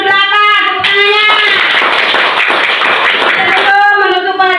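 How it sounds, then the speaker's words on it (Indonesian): Elementary schoolchildren in a classroom at SD Negeri Tanjung Genteng break into loud, close, steady group clapping, with chanting young voices before and after the applause. "Tepuk tangannya."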